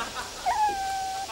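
A dog gives a single thin, high whimper. The whine rises briefly and then holds steady for almost a second, fairly close and quiet, with no speech over it.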